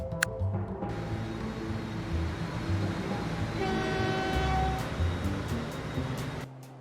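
Trains running in the Transport Fever 2 video game rumble steadily, and a long horn sounds partway through over the rolling noise.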